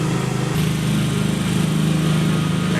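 An old-style corded drill drives Viking Clip hidden fasteners into rain screen siding. Its motor gives a loud, continuous buzzing whine with a slight rapid pulse, and the pitch steps up shortly after the start.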